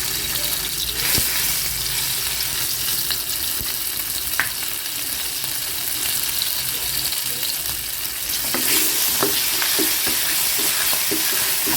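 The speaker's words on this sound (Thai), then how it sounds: "แล้วก็ใส่น้ำพริกเผานะคะ ใส่ลงไปเลย" Roasted chili paste sizzles and spatters in a hot pan as clams are stir-fried, a steady broadband frying hiss with scattered crackles and a few sharper pops near the end, close and fairly loud, with no talking.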